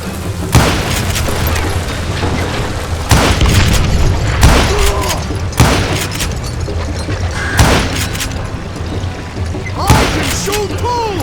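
Repeated booming gunshots and explosions fill a Call of Juarez Gunslinger shootout, loud irregular blasts every second or two over constant gunfire clatter and echoing debris.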